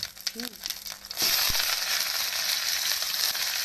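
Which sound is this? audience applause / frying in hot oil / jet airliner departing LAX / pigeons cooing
frying in hot oil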